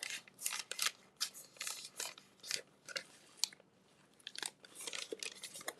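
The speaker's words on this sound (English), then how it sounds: "I wish the lining was more silky than crunchy." A crunchy, stiff handbag lining being handled up close, giving repeated crinkly rustling bursts in an irregular rhythm with short pauses between handlings.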